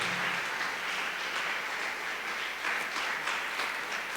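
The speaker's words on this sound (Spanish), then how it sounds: "Dale un aplauso al Señor." A church congregation applauds steadily through a sermon, a dense continuous wash of clapping from many hands filling the room.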